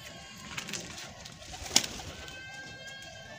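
Soft, low cooing from Aseel pigeons in cages nearby, with one sharp click partway through and a quiet background.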